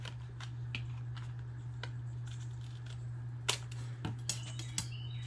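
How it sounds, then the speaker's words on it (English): Scissors snipping paper while making a gift card holder, a handful of crisp cuts scattered over a steady low electrical hum, close and fairly quiet. "Come back with my scissors and then just cut."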